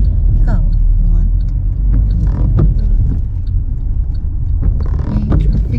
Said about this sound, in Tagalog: Ayan yung traffic nyo.